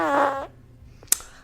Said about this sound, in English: Fart number 4, this one's called Car Horn.